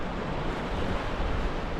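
Ocean surf rolls in with the incoming tide beside coastal cliffs, a dense, continuous wash of breaking water and wind rumble, loud and close without any pause.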